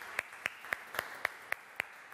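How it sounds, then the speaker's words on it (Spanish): A single person claps seven times in an even, moderately quick rhythm during a lottery draw broadcast, each clap sharp and close, with short silences between. "y este fuerte aplauso también, ¿sí?"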